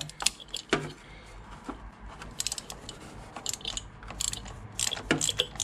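Ratcheting clicks and mechanical rattling come from a spark plug tool undoing spark plugs on a Honda VFR800 VTEC, with short bursts of close clicking separated by quieter pauses and no speech.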